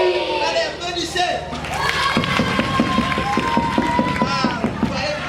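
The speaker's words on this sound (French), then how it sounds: "Allez, applaudissez." A group of children clapping and cheering at a French children's TV show, rhythmic loud applause with shouting voices mixed in, close and continuous.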